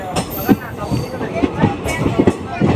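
Kanchanjunga Express train pulling out of Kishanganj station in Bihar, heard from inside the carriage: steady rumble with rhythmic wheel thumps over rail joints, fairly loud and continuous, with voices talking over it.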